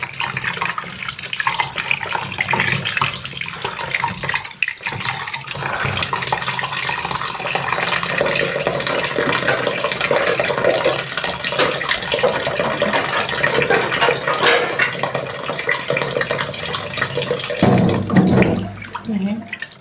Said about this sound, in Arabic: نرفع لها المية كده نغسلها، ننزل المية الوحشة اللي فيها